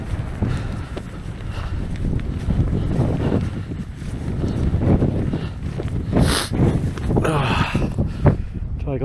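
Strong wind buffeting a microphone on an open hilltop of a Black Mountain near a trig point, a loud continuous low rumble with gusty surges, while a person talks over it.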